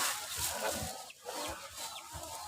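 Chickens clucking faintly at a distance, a few soft repeated clucks over a hissy, noisy background, with no clear talk.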